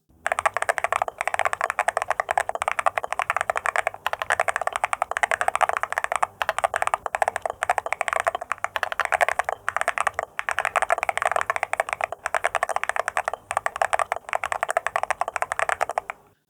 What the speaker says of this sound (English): so when you type, the impact feels more isolated,